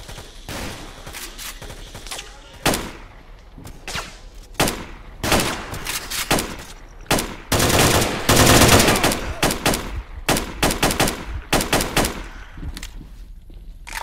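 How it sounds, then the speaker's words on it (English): Gunfire in S.T.A.L.K.E.R. Call of Chernobyl rings out close and loud as single shots and rapid automatic bursts, irregularly spaced, with a dense volley in the middle and faint footsteps between. "I'm shooting over his head."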